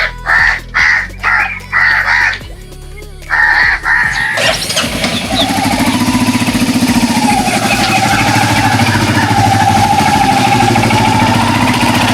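A motorbike carries riders toward a mangrove boat ride near Lalganj in the Sundarbans. Its engine runs with a steady, continuous drone that sets in partway through, after crows caw loudly over a quieter start.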